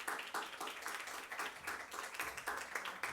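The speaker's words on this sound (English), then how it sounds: "Please give her a big round of applause to welcome Ms." A crowd at a women-in-tech session claps in a quick, even patter, moderately close and steady throughout the short burst.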